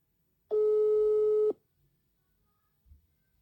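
A telephone call tone sounds while a call is being placed: a single steady electronic beep lasting about a second, heard close and clear, followed by near silence.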